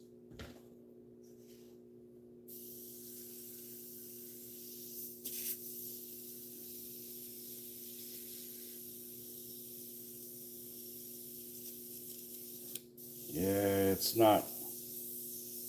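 Airbrush spraying paint on model DAK tanks at high pressure, a steady close hiss that holds for most of the stretch over a low hum, with a brief voice near the start and a burst of noise near the end.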